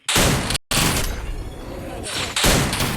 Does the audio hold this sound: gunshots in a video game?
yes